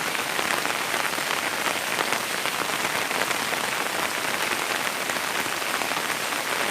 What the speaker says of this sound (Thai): ฝนตกแต่เช้าเลยวันนี้